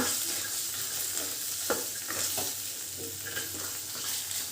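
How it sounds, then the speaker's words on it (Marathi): Field beans frying in oil in a pan, a steady close crackling sizzle with several soft stirring scrapes, quiet and without talking. "छानपैकी तेलामध्ये खरपूस असं आपल्याला आता हे भाजून द्यायचं आहे"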